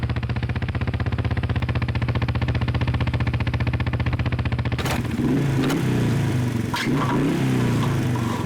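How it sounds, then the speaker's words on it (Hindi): A faulty motorcycle engine drones loudly and steadily at idle, then gives several rough, uneven revs and clattering bursts in the second half, with no voices. "बाइक खराब है"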